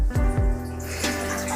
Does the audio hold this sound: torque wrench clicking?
no